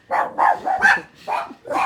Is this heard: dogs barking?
yes